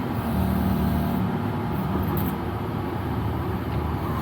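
A Kubota SVL75 skid steer idles steadily nearby with a constant low engine drone, its bucket raised and lowered without much change in the sound.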